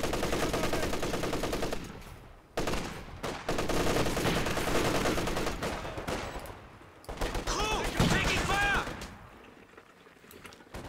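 Gunfire from a Company of Heroes 2 World War II battle: dense bursts of machine-gun and rifle fire rattle almost continuously, broken by short gaps, with a voice talking over the shooting.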